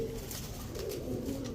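Pigeons coo steadily and close by at a breeder's loft, their low throaty burbling continuous for a few seconds with no talk.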